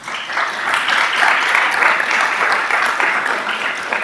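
A crowd claps steadily and warmly at a school board meeting, the dense applause holding at an even level for about four seconds before easing slightly at the end.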